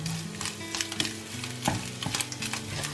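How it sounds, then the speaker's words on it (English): Bacon and ham fry in a pot, a steady close sizzle broken by scraping stirs and small pops, with no talking. "let the bacon and the ham fry really nice"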